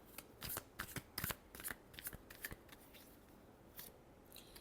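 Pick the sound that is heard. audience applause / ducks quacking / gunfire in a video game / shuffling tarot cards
shuffling tarot cards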